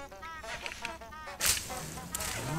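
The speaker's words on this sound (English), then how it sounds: "What is that duck noise?" A duck quacks in the Hogwarts Legacy video game, a run of nasal honking calls repeating quickly, faint and at a distance, with a sharp crack partway through.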